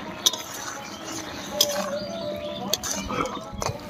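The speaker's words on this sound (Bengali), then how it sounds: "এবার ভালো করে মিশিয়ে নিচ্ছি।" A spoon scrapes and clinks against a pot while spices and rice paste are stirred into pat shak ghonto, a jute-leaf dish, with sharp metallic taps scattered over a low kitchen hum.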